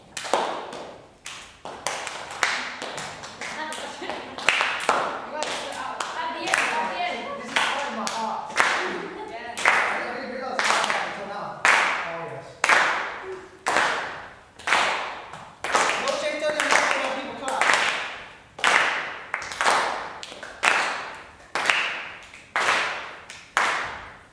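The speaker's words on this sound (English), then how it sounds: "now you got to get a clap in there" A group claps hands in a steady rhythm during a dance session, sharp repeated claps in quick bursts with pauses between, close and loud, with people talking over some of it.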